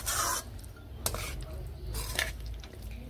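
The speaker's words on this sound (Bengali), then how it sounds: "কাঁচা সর্ষের তেল দিয়ে বেশ ভালোভাবে এইভাবে মিশিয়ে নেড়ে নিচ্ছি।" Drumsticks being stirred with raw mustard oil in a pan for a Bengali vegetarian dish, a few scraping, clattering utensil strokes against the pan over a low background hum, no talk.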